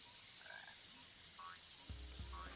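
A frog croaks in the Sonic Adventure DX video game, a few short low croaks near the end over steady game background music and ambience.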